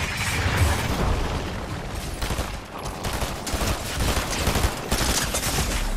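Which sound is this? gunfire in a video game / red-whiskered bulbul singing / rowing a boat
gunfire in a video game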